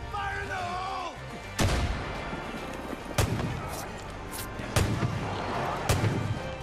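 Heavy gunshots in the game Far Cry 5, several sharp loud blasts spaced about a second apart over a chaotic rumbling battle, with a voice shouting early on.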